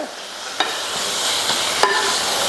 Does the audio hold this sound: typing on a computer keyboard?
no